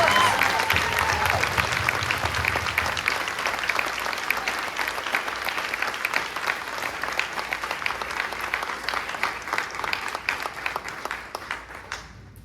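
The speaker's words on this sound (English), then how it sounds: "Please give a round of applause for Josh" An audience at a band camp event breaks into sustained, dense applause for Josh. A few voices sound early on, then the clapping thins and fades toward the end.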